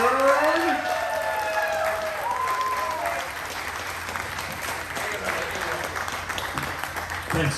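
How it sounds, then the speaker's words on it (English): A convention crowd at Metropolis 2022 applauds and cheers as a guest takes the stage. A voice and whoops ring out at the start over a steady, dense wash of clapping that lasts throughout. "So let's ride that applause and please welcome to the stage Mr. George Newbern."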